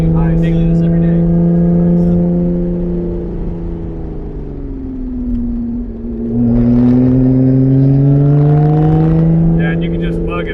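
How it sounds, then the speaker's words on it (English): A supercharged Lotus Evora 400 on a winding mountain road revs loud and close, its engine note holding steady, dipping briefly, then climbing again into a high, sustained whine. "The supercharger takes care of it, but it sings up high. Really likes to rev out too."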